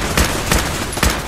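Three loud, evenly spaced gunshot bursts ring out in Fallout 4 combat, each a sharp broadband crack over a steady background din, with no talking.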